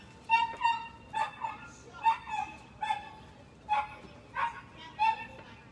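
A dog barks in repeated sharp bursts, about eight over several seconds, fairly close and clear with a short gap midway and no talking over it.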